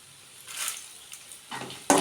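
Byadagi chillies and hot red chillies being dry-roasted in a pan, quiet at first, then brief rustling stirs and scrapes, with sharper louder scraping bursts toward the end.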